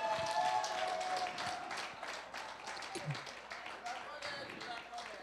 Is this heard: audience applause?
yes